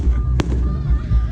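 Fireworks pop with one sharp bang and a fainter second crack over a low rumbling background, with voices murmuring nearby, in Laiya, Batangas.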